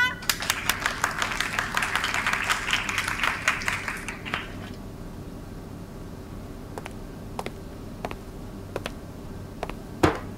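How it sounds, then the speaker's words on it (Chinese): A classroom of students clapping to welcome a new classmate, a burst of close, ragged applause for about four seconds that dies away, followed by sparse clicks in a quiet room. "让我们来鼓掌欢迎他。"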